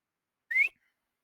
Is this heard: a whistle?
yes